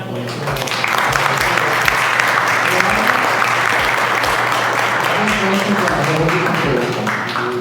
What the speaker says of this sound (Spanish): vamos a darle un aplauso a tu